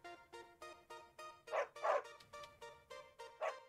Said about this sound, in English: Hey there, little doggy. How are you doing, girl?